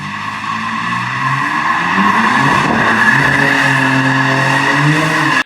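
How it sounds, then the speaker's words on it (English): A Dodge Charger Six Pack in rear-wheel-drive mode doing a burnout: a loud, continuous tire squeal with a roaring engine, wavering pitch, sustained close up for the whole stretch with no talking. "So you can do burnouts and all that kind of stuff."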